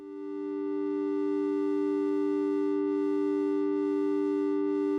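A synthesizer oscillator holds a steady, loud sine-wave tone with faint harmonics that fades in smoothly and then sustains unchanged, with no talking.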